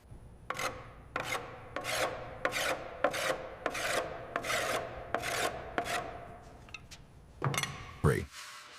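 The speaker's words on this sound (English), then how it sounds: "I'm block sanding it flat." Repeated rhythmic rasping strokes of a sanding block scraping across cured body filler on a 1937 Chrysler Airflow Coupe, about a dozen passes, close and steady, ending with a shuffle.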